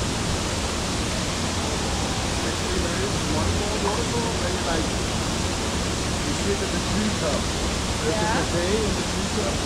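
The Na Mueang 2 waterfall in Thailand rushes in a loud, unbroken roar of falling water that fills the whole stretch, with voices faintly under the torrent.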